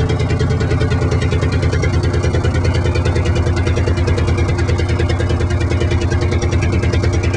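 A Redstone single-cylinder diesel driving a 12 kW generator on waste vegetable oil thuds in a loud, steady, fast chug, with a constant rhythmic knock and a heavy air-intake roar close to the listener.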